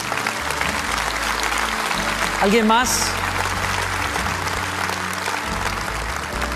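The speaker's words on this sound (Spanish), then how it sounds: "Denles un buen aplauso a ellos, a nuestros hermanos." A church congregation applauds steadily throughout, a broad continuous patter of clapping while a voice speaks over it and briefly sings a rising phrase midway.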